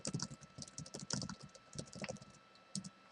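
Typing on a computer keyboard, a steady run of close, quick key clicks with brief pauses, entering a paper's running head in capital letters.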